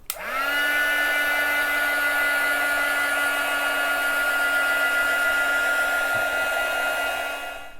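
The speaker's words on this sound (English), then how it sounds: "I'm going to use my heat gun or your hair dryer to just make sure this is nice and dry." A heat gun drying paper starts abruptly and runs with a loud, steady whine and blowing rush for several seconds before shutting off.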